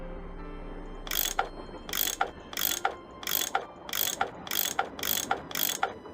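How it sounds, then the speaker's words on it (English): Eight evenly spaced ratcheting bursts of a wrench-like tool turning bolts in a video game, sharp and close, each a quick metallic clicking rattle, with no talk. "That tool I saw in the caboose. I bet that's what you used to unscrew these bolts."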